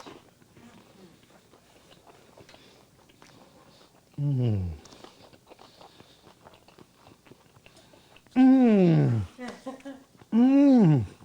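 Biting and chewing a tuna salad sandwich on crunchy bread made with ghee: soft, steady crunching ticks run beneath intermittent voices talking close by.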